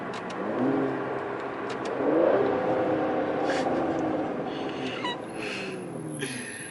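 Aston Martin DB11 V12 engine accelerating, a steady mid-pitched drone that swells and holds at close range, with a rising whine toward the end.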